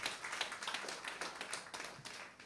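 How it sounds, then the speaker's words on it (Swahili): Audience applause at a recognition seminar in Mombasa, a quiet, brief patter of scattered hand claps with uneven rhythm, heard from a distance without any speech over it. "Tumpigie makofi mazuri tena sana."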